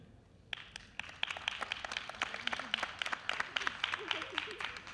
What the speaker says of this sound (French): Encore une fois, je pense qu'on peut les applaudir.